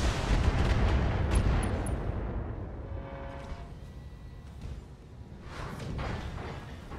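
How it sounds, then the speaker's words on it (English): A mech's ammunition explodes in the Battletech video game, a heavy booming blast that rolls off into a rumbling decay, followed by further muffled thumps and whooshes, with no talking. "was it the ammo explosion that destroyed the Tiger mech?"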